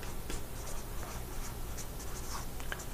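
Marker or chalk writing on a board during a kinetic molecular theory lesson, a steady scratchy stroke sound running continuously, close and moderately loud with no talking.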